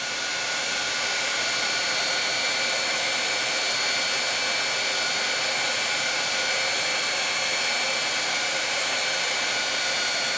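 A heat tool blows hot air to melt embossing powder on a craft project, a constant loud whirring hiss with a steady motor whine that never changes for the whole stretch, with no voices.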